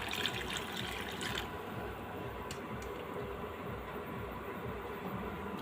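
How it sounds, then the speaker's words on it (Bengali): Milk poured into a pan of fried vermicelli while making Pakistani-style semai, a steady broadband rushing pour that runs throughout, louder for the first second and a half, with no talk. "এই দুধ দিয়ে দিচ্ছি।"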